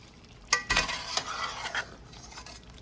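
Potato and cauliflower curry stirred gently in a pan, a few sharp spoon knocks followed by a soft sizzle that fades, close and quiet.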